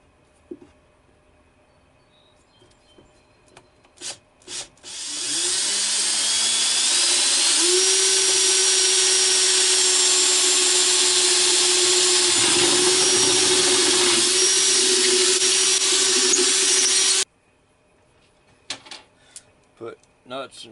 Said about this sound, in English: before I do any drilling